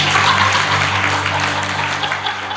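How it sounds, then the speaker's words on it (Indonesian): A congregation at a GBI Marike church service in Langkat claps for God in steady, dense applause that fills the whole stretch at a fairly loud level over a low hum. "Tepuk tangan dulu untuk Tuhan."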